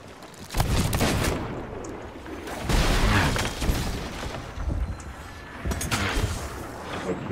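Pirate ship cannons and guns firing in Sea of Thieves, several heavy booming shots spaced a second or two apart, loud and near, over a rushing background of wind and waves.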